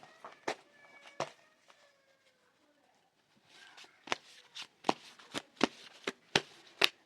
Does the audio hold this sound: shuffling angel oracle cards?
yes